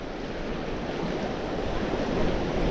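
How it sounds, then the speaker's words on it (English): Wind gusting along a rocky shoreline at night during lure fishing for bass, a steady broadband roar with surf washing against boulders, continuous and fairly loud with no voices. "It's pretty tricky because it's quite windy."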